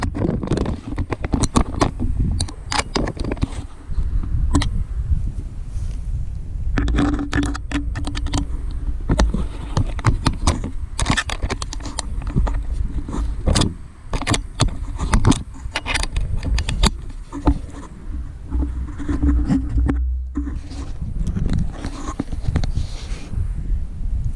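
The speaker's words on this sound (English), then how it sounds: "I'm just going to tighten up the pair of Allen bolts" Small metallic clicks and scrapes from an Allen key tightening a pair of bolts on a camera mount for an Aeronca C3 model, busy and close, with jangling clatter over a dense rumbling background throughout.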